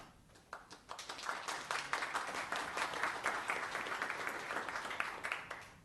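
Audience at a town council meeting breaks into applause, scattered claps at first quickly swelling into steady, moderately loud clapping that holds for several seconds, with no talking over it.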